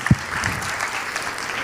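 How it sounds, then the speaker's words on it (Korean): Brief burst of church congregation applause during a Korean worship service honouring departing and incoming officers, a short crackle of clapping that quickly thins into a soft, diffuse room wash. "우리 큰 박수로 격려하도록 하겠습니다."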